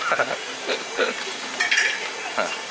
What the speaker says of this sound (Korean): 아 이렇게 이렇게 양파 기름을 내요